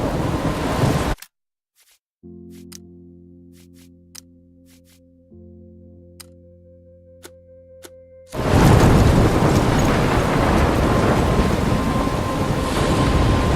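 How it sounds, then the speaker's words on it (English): Video game storm from Life Is Strange: a roaring wash of wind and rain cuts out briefly, leaving low droning tones, then the heavy storm noise surges back loud and continuous. "I'm trapped in a storm?"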